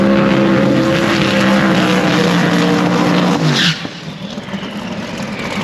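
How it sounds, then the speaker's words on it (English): Drag race car at a Street Outlaws No Prep Kings event in New England roaring loud and steady through a tire-spinning burnout, engine note rising before cutting off sharply near the end, leaving a lower rumble of idling and crowd ambience. "just finished the burnout up"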